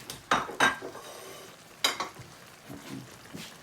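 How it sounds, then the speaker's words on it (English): Béchamel sauce stirred in a pot, a few close spoon scrapes and clinks against the metal with quieter swishing between them, no voices. "So you want to give that a little bit of a stir"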